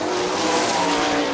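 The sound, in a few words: sprint cars racing at Kokomo Speedway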